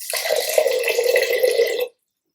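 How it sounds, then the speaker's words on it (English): Water pours steadily into a batch of fermenting amazake for about two seconds, a close, continuous splashing gurgle that stops abruptly and leaves silence. "I think I want to add some more water in."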